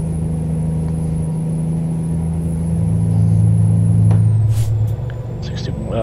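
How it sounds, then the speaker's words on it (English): A heavy truck in American Truck Simulator rolls over road rumble strips, a steady droning buzz under the engine rumble, close and loud, with a brief hiss near the end. "There's those rumble strips that you can hear."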